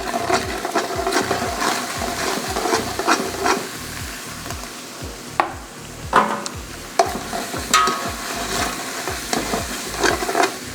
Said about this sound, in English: We've got the vegetables in the chili, and they're going to sit there and saute for about 1 to 2 minutes